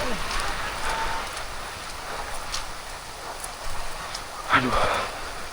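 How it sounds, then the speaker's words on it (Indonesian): Heavy rain pours in a steady broadband wash during a downpour outdoors, with occasional louder splashes and a brief nearby voice under the constant rain. "hujannya besar banget sahabat nih"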